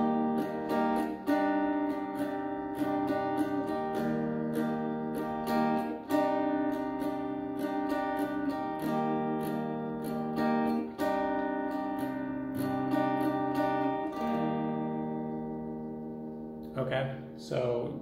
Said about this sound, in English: And for the main riff, you just alternate between those.